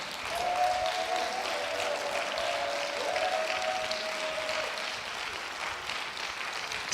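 Worshippers in a church clap louder in praise, a sustained crowd applause with a held sung or shouted tone riding over it for several seconds.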